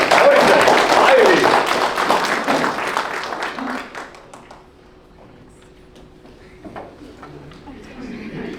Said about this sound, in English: Ladies and gentlemen, a round of applause, if you would, for the one.